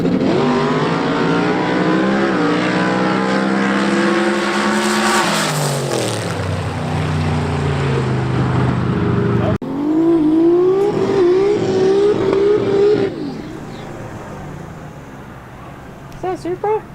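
A Toyota Supra race car revs loudly at close range, its engine note climbing and falling in strong harmonic sweeps before a sharper second burst and fading mechanical noise, with voices talking over it.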